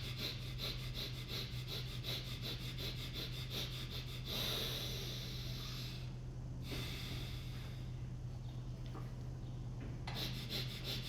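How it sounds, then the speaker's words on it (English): Rapid forceful fire breaths from a yoga breathing exercise, a fast rhythmic train of sharp nasal exhales that pauses briefly midway and then resumes, close and steady with no talking. "2 more fire breaths"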